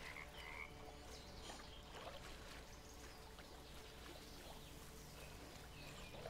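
Frog croaking beside water in the video game Bramble: The Mountain King, repeated low croaks over a soft watery, gurgling ambience, fairly quiet and steady, with no talking.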